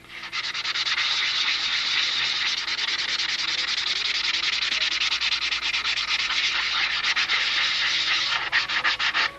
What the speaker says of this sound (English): I'm going to detail sand out the wing